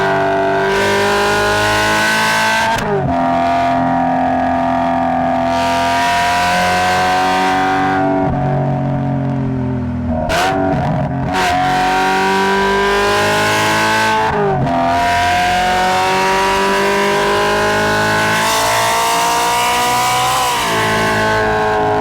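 A tuned 625 hp BMW E92 M3 engine revs hard and loud through several rising gear pulls, each ending in a brief shift break, a constant close roar with no voices.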